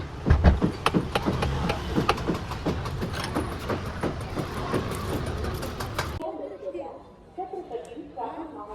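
A train rumbles and clatters nearby with rhythmic clacking, then the noise drops away abruptly and quiet voices remain.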